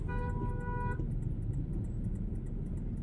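Car horns honk over steady road traffic in congested city traffic near a hospital; a sustained harmonic horn blast fills the first second, then engine rumble and traffic noise continue alone.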